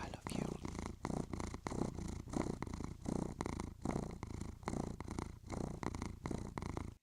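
A cat purrs close up in a steady, rhythmic rumble that pulses with each breath for the whole stretch, loud and continuous with a soft voice faintly present.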